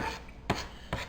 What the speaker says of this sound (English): And we're going to chop this up.